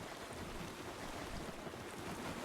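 Constant, loud rushing of water in the video game Palworld, an even wave-like hiss that holds steady throughout with no voices or breaks.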